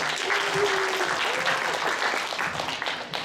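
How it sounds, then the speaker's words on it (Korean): Audience applause for a professor at a college health administration department's licensing exam send-off ceremony, a steady wash of clapping that holds for several seconds before thinning out, with a faint voice briefly above it. "사과 소개를 해주신 정수정 교수님께 다시 한번 큰 박수 부탁드립니다."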